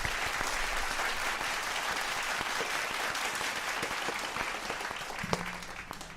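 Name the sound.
applause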